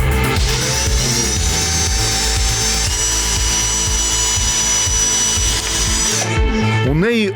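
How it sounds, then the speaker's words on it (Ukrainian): A loud power tool whines steadily in a drone repair workshop where engineers and technicians take apart, solder and fix drones and their controllers, then cuts off near the end, followed by a short rising mechanical tone. "Інженери і техніки одночасно розбирають, паяють, ремонтують безпілотники та пульти до них."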